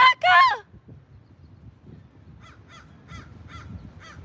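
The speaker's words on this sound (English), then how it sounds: "All the birds are singing." A crow caws repeatedly in the distance, about five short evenly spaced calls at a steady rhythm over a low background murmur, after a brief burst of close speech at the start.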